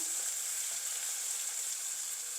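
Chopped tomatoes and onions frying in oil in a pan for homemade prawn biryani, giving a soft, steady hiss and sizzle that runs continuously with no talking.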